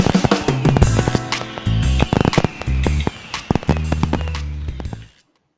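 Fireworks going off in a rapid barrage of sharp cracks and booming bursts, some overlapping into dense crackling volleys, loud and close for about five seconds before stopping abruptly into silence.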